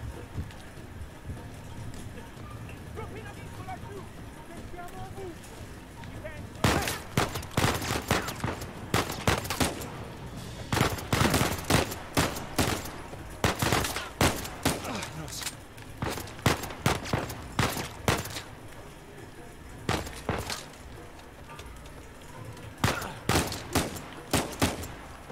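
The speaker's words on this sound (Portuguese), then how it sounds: "Sem nem de onde eu tô tomando tiro, velho." Gunfire from the video game Uncharted 4: dense bursts of rapid shots beginning after a quieter stretch, loud and repeated in clusters with brief pauses, over a steady ambient bed like rain.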